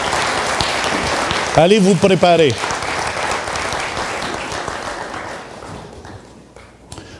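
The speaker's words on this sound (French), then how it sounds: "on les applaudit, toutes les baptisés" A church congregation applauds the newly baptized, a steady round of clapping that runs through the clip, while someone speaks briefly over it near the middle.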